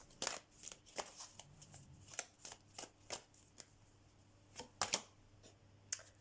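Oracle cards are shuffled by hand in a quiet room, a string of soft, crisp riffles and taps at an uneven pace, close by, with a faint low hum beneath.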